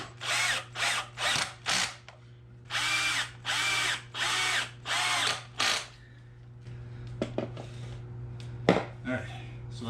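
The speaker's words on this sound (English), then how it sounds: "I'm going to put a couple more screws in these, and then I'll get to building the uprights." Power drill driving screws into furniture wood while a fishing rod stand base is assembled: about nine loud whirring bursts of one to two seconds each in steady succession, then quieter clicks and clatter, with a low steady hum underneath.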